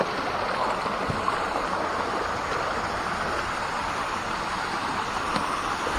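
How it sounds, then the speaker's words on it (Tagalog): Strong rush of water at Busay Falls, a waterfall in Barangay Banuyo, Gasan, Marinduque, forming a dense, continuous roar that stays steady and close throughout, with no talking. "lakas ang awas ng tubig."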